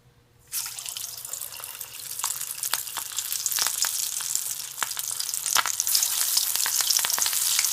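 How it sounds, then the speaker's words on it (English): Lettuce koftas deep frying in hot oil in a kadai: a loud, steady sizzle starts abruptly after a moment of quiet and carries on with scattered sharp crackles and pops. No voices. "Just I heated oil in a kadai. Just I am going to deep fry this koftas."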